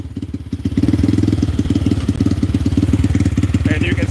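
A Zongshen 250cc motorcycle engine runs close by at a steady, loud idle with a rapid, even throb that starts after a short quiet lead-in.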